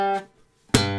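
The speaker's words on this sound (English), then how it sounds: "it creates this popping sound" A guitar string snapping back against the fretboard: a sustained ringing note fades to near silence, then a sharp, bright pop strikes and rings on, played alone with no talking.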